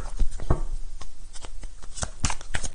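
Divination cards being shuffled for a daily reading: a short run of crisp, close riffling slaps and flicks in an irregular rhythm, with no voices.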